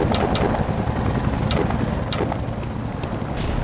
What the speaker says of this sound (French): je peux entendre, il y a encore un hélico